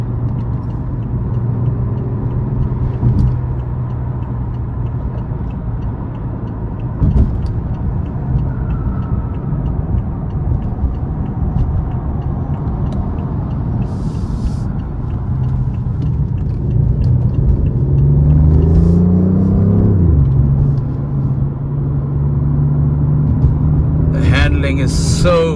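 A 2019 BMW i8 Roadster cruising on a highway in sport mode gives a steady low engine and road drone from inside the cabin, swelling briefly in pitch and intensity partway through before settling back.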